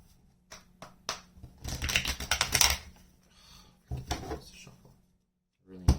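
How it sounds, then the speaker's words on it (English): A brand-new deck of tarot cards being shuffled: bursts of rapid, crisp clicking and riffling in quick clusters, separated by short pauses, with no talk. "Shuffle. Really new cards here."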